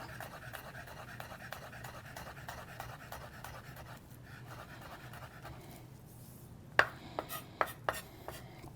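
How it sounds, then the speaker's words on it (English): A kitchen knife minces garlic on a cutting board, with a fast run of faint, evenly spaced taps followed by a few louder, sharper chops near the end, in a quiet room. "So now just take my knife through it a few times, and we're just going to mince this up."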